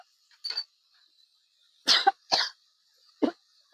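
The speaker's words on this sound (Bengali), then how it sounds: "এসেই কাশি হচ্ছে" Four short, rough coughs, one near the start and three close together later, against a faint steady high whine.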